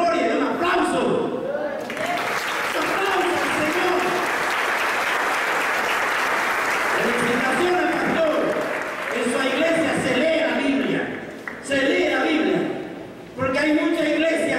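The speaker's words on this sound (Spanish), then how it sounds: "Gloria, un aplauso." Congregation applauding in a church service, a sustained broad wash of clapping from a large crowd that swells for several seconds, with a preacher's voice speaking over the start and again near the end.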